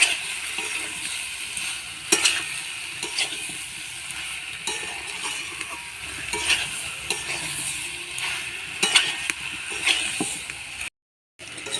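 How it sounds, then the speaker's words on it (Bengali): Boiled potatoes stir-fried with spices in a pan for aloo dum: a soft continuous sizzle under repeated scraping strokes and sharp clicks of a spatula against metal, closely miked, ending in a brief silence. "মশলার সাথে আলুটা 1 মিনিট মতন কষে নেব।"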